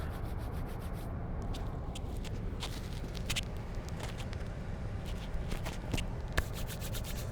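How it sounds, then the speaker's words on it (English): Palms rubbed together during a Kundalini yoga breathing practice, giving a steady close brushing friction that runs continuously with a few brief brighter swishes, and no voice over it. "Bring the palms together and rub them."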